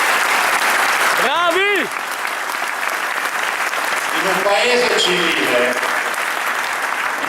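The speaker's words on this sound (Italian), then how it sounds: "fateglielo l'applauso" A crowd at an outdoor political rally for Veneto autonomy breaks into loud, sustained applause for the police. Dense clapping runs throughout, with a few shouted cheers and calls rising above it.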